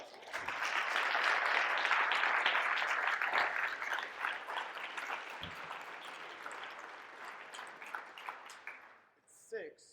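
An audience applauds loudly with dense, continuous clapping that gradually thins out toward the end.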